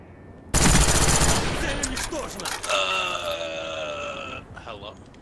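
Gunfire in a video game match on the Launch map, a loud burst of rapid shots erupting after a brief lull, then ringing tonal sounds trailing off, with a voice talking over parts of it.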